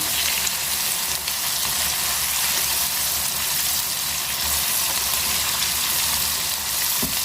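Beef pieces for pasanday frying in a pan, a steady broadband sizzle that stays loud and even throughout with a faint low hum underneath and one brief clink near the end.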